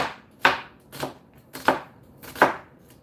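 Onion thinly sliced with a knife on a cutting board: four crisp, evenly spaced chops, close and clear with quiet gaps between them.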